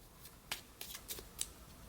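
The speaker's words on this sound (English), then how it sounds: "Let's pull some oracle cards." Oracle cards are shuffled by hand: a few quick, close riffling bursts and soft card flutters in an otherwise quiet room.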